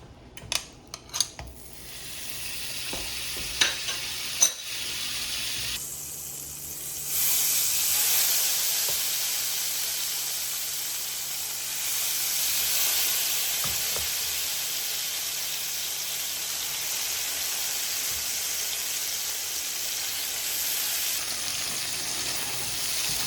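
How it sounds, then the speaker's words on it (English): Butter going into a frying pan while making sweet potato gnocchi: a few sharp utensil clinks, then a loud steady hiss and sizzle that holds for the rest of the time. "I will put the butter in the pan."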